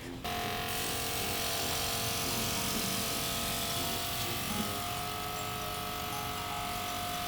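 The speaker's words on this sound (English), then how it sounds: "Airbrush some cream into the top." An airbrush sprays cream onto the top of a cake, making a steady, continuous hiss with a faint motor hum under it. The spray starts abruptly and holds even throughout.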